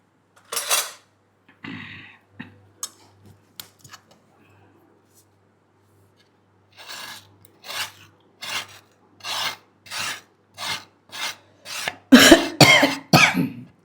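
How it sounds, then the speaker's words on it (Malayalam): A person with a cough of two or three days coughs repeatedly, a series of short bursts growing louder and closer together toward the end, after earlier faint scraping and clinking noises. "ചുമയാണ്, 2-3 ദിവസമായിട്ട്,"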